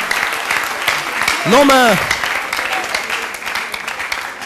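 Applause from a crowd at a Congolese music celebration honoring a musician's 30-year career, heard under a loud voice speaking and cheering over the clapping.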